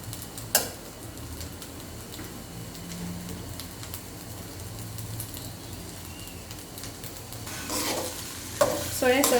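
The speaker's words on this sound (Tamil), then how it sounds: "சோயா சாஸ் ஊற்றி நல்லா இது மாதிரி கிளறுங்க" Fried rice for nasi goreng is stirred with soy sauce in a pan: a soft, continuous sizzle with light scraping ticks, ending in a louder clatter of utensil against pan.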